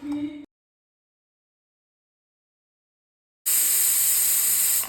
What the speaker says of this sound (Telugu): ఇప్పుడు కుక్కర్ విజిల్ పెట్టేసి 3 విజిల్స్ వచ్చేంత వరకు కుక్ చేసుకోండి.